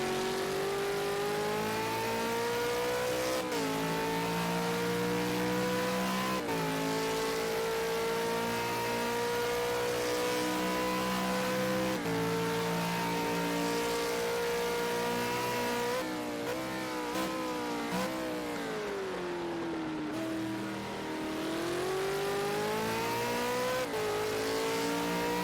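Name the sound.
V8 Supercar engines racing at Road America, Project Cars 2 video game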